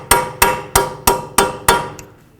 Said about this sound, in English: So grab a chisel or a punch or whatever you have and just punch this in a little bit.